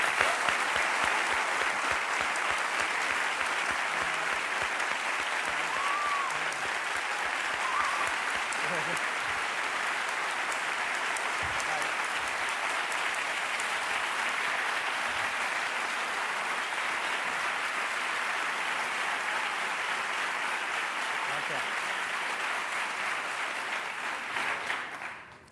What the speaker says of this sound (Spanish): quiero ahora que le deis un fuerte aplauso